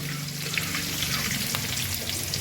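Potatoes fry in oil with bay leaves and fenugreek seeds, a dense, close, continuous crackling sizzle with light stirring scrapes and no voices.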